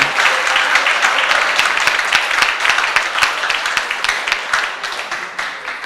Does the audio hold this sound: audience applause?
yes